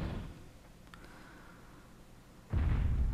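Gunfire aimed at a dinosaur in the game Dino Crisis Rebirth HD: a heavy booming shot fades at the start, then after a quiet stretch another loud blast hits near the end.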